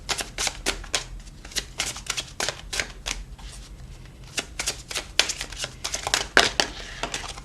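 Tarot cards being shuffled during a water-signs reading, a rapid run of crisp papery riffles and flicks repeating in bursts throughout, close and fairly quiet with no talk.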